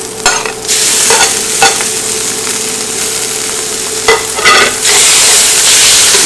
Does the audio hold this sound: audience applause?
no